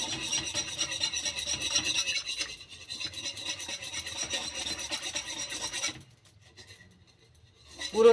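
Three packets of milk powder are stirred into warm milk for gujiya, a rapid rhythmic scraping and swishing of the spoon against the pot, close up, then stopping into near quiet before a brief clatter.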